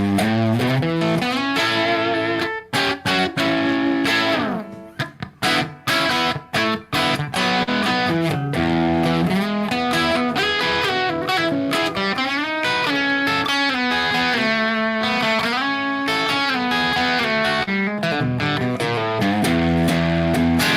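An electric guitar, a '55 LP Special, plays through a distorted 6L6 tube amplifier. Thick, sustained chords and riffs run continuously and loud, with a few brief gaps early on and no voices.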